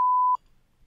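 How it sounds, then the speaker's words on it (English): A podcast censor beep sounds as one steady, loud pure tone lasting about a third of a second, cutting off abruptly into near silence. "he needs beeps to put in"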